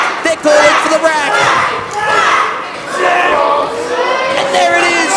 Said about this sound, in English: The crowd, just listen to him. They're calling for the rack.